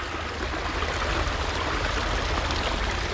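Stream water flows in a steady, broadband rush, close and continuous, with no voices or other distinct sounds over the few seconds.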